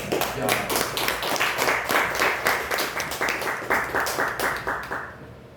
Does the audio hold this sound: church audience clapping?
yes